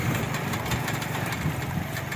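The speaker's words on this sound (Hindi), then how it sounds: "ये जा रहा है ट्रैक्टर और पीछे आ रही हैं गाड़ियाँ।" A tractor engine chugging steadily as it travels along a rural road under repair, running at a constant, fairly close, mid-pitched drone with no one speaking.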